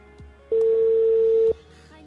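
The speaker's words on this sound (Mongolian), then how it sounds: "утсан дуудлага хийж байна" A phone call being placed during a birthday greeting broadcast: a single steady tone sounds for about one second, clear and alone, with quiet background before and after.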